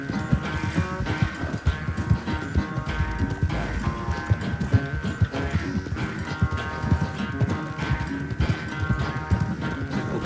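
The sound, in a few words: horse galloping in Red Dead Redemption 2 video game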